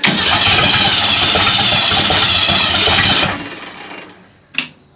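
Starter cranking on an old Ford Econoline travel wagon van left sitting for over 15 years, a loud, continuous churning whir that stops abruptly after about three seconds, followed by a brief clunk.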